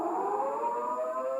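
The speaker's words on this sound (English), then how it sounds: "The signal is a long, steady blast on the civil defense sirens or other warning devices." A civil defense siren sounds a steady attention or alert signal, a sustained droning wail held at an even pitch for the whole brief moment, with no voices, in a 1983 nuclear attack emergency broadcast scenario.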